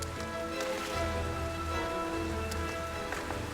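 Steady rain falling on surfaces in a city, a dense continuous patter with scattered louder drops and a low background hum, with no voices.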